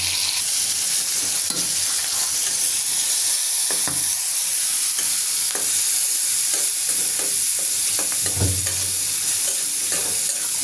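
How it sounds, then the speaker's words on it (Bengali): Chilies frying in a pan with salt and turmeric give off a steady, loud sizzle with stirring scrapes throughout, and no voices. "প্রথমে মরিচগুলো ভেজে নিচ্ছি"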